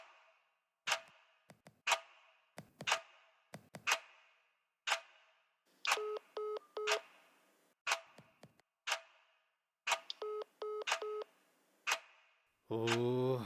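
A phone number is dialed in a series of sharp, evenly spaced taps, with two short bursts of beeping tones in the middle, and a voice comes in at the very end.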